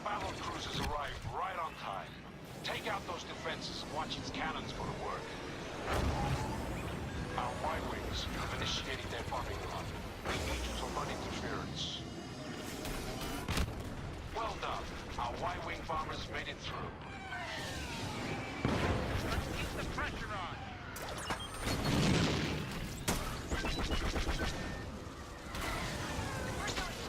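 Heavy booming cannon blasts and explosions from a video game battle, dense and continuous, with mechanical effects and speech mixed throughout.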